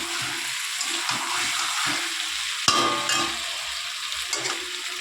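Chicken sautés in a pan with a steady close sizzle, broken by scraping stir strokes and a sharp clatter partway through, and no one speaks.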